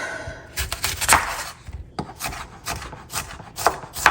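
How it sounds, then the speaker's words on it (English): A knife chops onion on a cutting board in quick, close, uneven strikes that repeat through a few seconds of home cooking. "I'm gonna chop some onion to go in it."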